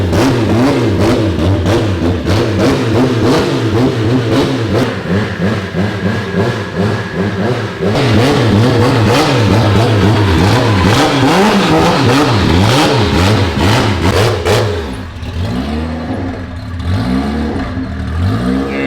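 A built Toyota 2JZ engine roars continuously on a dyno, loud and close, its pitch repeatedly climbing and falling through hard revs before easing off near the end.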